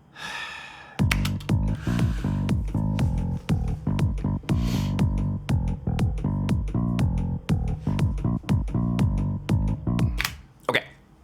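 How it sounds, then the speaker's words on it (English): Bass line and kick drum from a music production sample play alone, a steady pulsing groove of punchy low thumps under sustained bass notes, loud and close for about ten seconds. "so that all is gonna play will be the bass and the kick drum"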